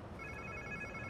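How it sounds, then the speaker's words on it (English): A phone rings in the Spider-Man 2 video game, a steady electronic trill held over low ambient game background with no talk. "Sounds like somebody's phone."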